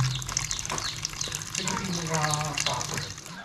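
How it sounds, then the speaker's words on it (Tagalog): Tomatoes are soaked in water to wash off pesticide spray, with close splashing and sloshing throughout and faint background voices. "Babad natin sa tubig para mawala yung gamot na spray."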